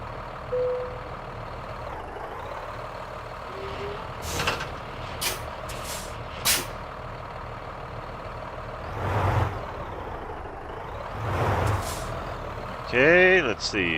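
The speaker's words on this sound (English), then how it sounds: "Got the old T680 work truck." A Kenworth T680 work truck in American Truck Simulator rumbles steadily at low idle, with several sharp air-brake hisses and brief bursts, plus a short run of reversing beeps near the end; no talk is heard.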